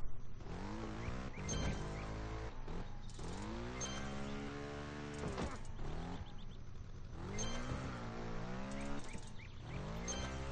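A motorbike ridden on a track in the mobile game Trials Frontier. The engine revs in rising and falling whines with several sharp throttle bursts, loud and close, with no voices.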